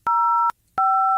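Two steady dual-pitch phone tones from a Samsung Galaxy S20 BTS edition, each lasting about half a second with a short gap between, clear and loud with nothing else around them.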